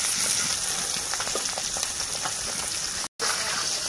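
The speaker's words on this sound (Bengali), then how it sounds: "খুব সুন্দরভাবে মা মাছগুলো ভেজে নিচ্ছে" Whole desi koi fish fry in oil, giving a dense, continuous close-up sizzle and crackle with no voices over it.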